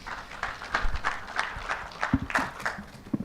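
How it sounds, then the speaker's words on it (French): Audience applause at a development-model conference as the next speaker is introduced: irregular, moderately close claps in uneven bursts, fairly quiet overall and spreading through the room. "sous vos applaudissements"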